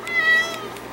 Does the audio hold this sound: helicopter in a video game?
no